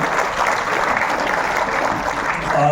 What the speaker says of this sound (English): a big round of applause for every core committee member of TCA